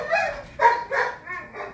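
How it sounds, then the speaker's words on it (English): Indoors, a dog gives a quick run of four or five short barks and yips, fairly close and loud, rising and fading between bursts while a breathing bag is being checked nearby. "Sorry about the dog."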